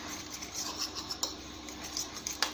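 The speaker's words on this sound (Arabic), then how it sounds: "ونقلب دول كلهم كده مع بعض ونحط معلقه الخل" A spoon stirs a yogurt and vinegar marinade for breaded cutlets in a bowl, giving faint, soft scraping with a few light clinks against the dish.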